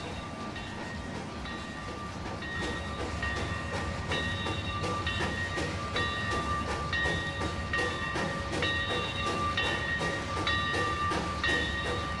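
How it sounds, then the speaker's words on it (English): A train runs on the Hatchet Creek route in the Trainz video game, its whistle sounding in repeated bursts over a steady rolling rumble and rhythmic rail clatter. "I don't know why I can just never get enough of that whistle."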